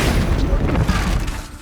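Expelliarmus spell effect from the Hogwarts Legacy video game, a dense booming burst that stays loud and sustained across the short clip before tapering slightly at the end.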